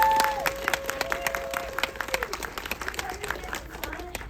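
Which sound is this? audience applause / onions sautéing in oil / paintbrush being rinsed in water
audience applause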